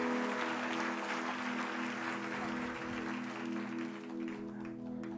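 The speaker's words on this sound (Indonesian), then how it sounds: "Kasih tepuk tangan." A crowd applauds at an Indonesian album launch, giving steady, continuous clapping for several seconds over a low electrical hum from the venue's sound system.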